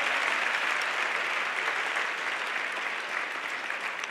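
Steady, dense applause from a gala audience fills the hall for about four seconds, even and sustained without a break.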